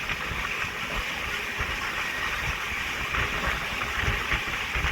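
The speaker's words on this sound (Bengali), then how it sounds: "ভুবনেশ্বর স্টেশনের আউটারে এসে ট্রেনের স্পিডটা অনেকটাই কমে গেল।" The Puri-Sealdah Duronto Express runs along the track near Bhubaneswar, heard from on board as a steady loud rumble with wind rush and rhythmic wheel clatter, no speech.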